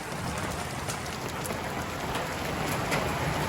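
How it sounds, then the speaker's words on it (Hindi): Heavy monsoon rain pours down in Mansehra, a dense, continuous hiss of drops hitting surfaces nearby, steady and fairly loud with occasional sharper splashes and no talking. "ये देखेंगे कितनी जबरदस्त बारिश हो रही है इस वक्त"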